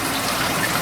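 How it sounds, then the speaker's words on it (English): Water pours steadily down through dirty filter socks in an aquarium sump, a continuous close gush with no breaks over the short stretch. "most of the water is actually just running down there"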